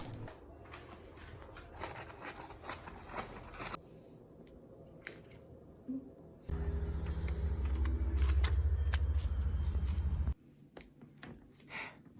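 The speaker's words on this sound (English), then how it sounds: "then cut up the walls" Scissors cut card or paper material for the walls of a soda cup device, giving close, crisp snipping and rustling in short bursts, followed by a louder steady stretch of handling noise.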